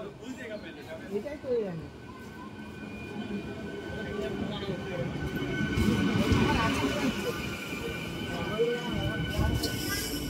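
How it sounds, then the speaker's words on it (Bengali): A MEMU local train rolls into a station platform at Jhargram, a steady rumbling rise of wheels and carriages that swells toward the middle, with crowd murmur and voices underneath. "গাড়ি আসছে সামনে থেকে।"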